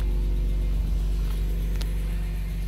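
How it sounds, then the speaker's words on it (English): A BMW E46 M3 reverses slowly into a garage, its engine giving a steady low rumble with a deep, even hum and no revving. "I'm gonna back up my car inside the garage."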